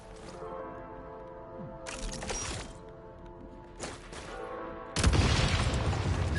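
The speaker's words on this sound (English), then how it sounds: "Shoot the explosives to detonate them and clear the path" Explosives detonating in Genshin Impact, v7.0 Snezhnaya update: three bursts over a steady low game hum, each a loud crackling blast, the last one biggest and sustained to the end.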